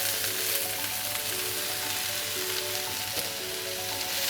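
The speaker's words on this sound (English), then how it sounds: "get a tablespoon of olive oil into your pan, like that. And in go your veg." Vegetables for pumpkin soup hitting a tablespoon of hot olive oil in a pan, a loud steady sizzle and crackle that fills the whole stretch, close up, no talking.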